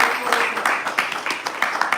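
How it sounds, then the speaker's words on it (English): A crowd at a Sunday evening devotional class breaks into brisk applause, rapid overlapping claps close by, with voices mixed in. "let's give a big round of applause"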